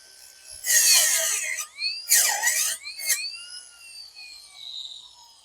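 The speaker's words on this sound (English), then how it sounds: "When these things sprout up, I can just hit them with this trimmer and just cut them right up there." Gisam 8 inch cordless weed wacker with a 2.0Ah battery cutting through sprouting tree roots, high whining bursts that rise and fall in pitch as the motor bogs and recovers, close and fairly loud, no talking.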